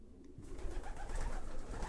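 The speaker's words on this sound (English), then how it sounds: "So these would be all distance pigeons." Distance racing pigeons coo softly inside a loft, a low continuous murmur of several birds close by with no talking.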